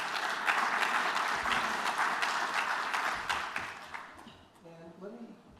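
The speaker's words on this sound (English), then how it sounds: "please join me in giving them a round of applause" An audience applauds steadily, a dense wash of clapping that fades out, followed by someone starting to speak.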